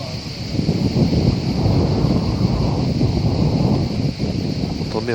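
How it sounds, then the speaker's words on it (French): Wind buffeting the microphone at a summer football match in Marseille's stadium, a loud continuous low rumbling roar throughout with a faint steady crowd-like hiss behind it. "Attendez, pas mal de vent."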